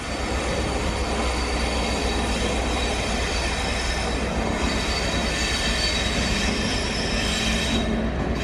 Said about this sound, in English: here's a light engine coming into platform 3